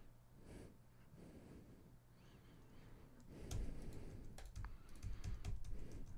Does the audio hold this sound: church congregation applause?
no